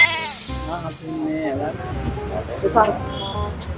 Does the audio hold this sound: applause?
no